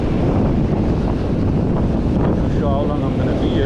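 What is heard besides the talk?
strong wind at the seashore while fishing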